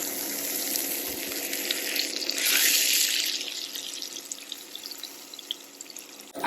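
A salmon fillet, skinless, placed in a hot pan to fry, a loud hissing sizzle that swells sharply for a moment and then settles into a steady crackling spatter, close and without talking.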